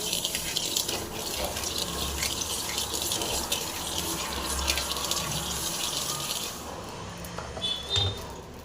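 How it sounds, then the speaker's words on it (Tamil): Fenugreek seeds dry-roast in a pan for a curry masala powder, giving a dense, steady crackling sizzle with fine pops throughout that thins out and softens near the end. "இது வெந்தயத்தை வந்து நல்லா வறுத்து எடுத்துடலாம்."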